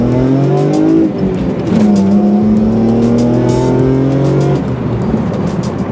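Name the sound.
1997 Ford Probe GT engine running with aftermarket exhaust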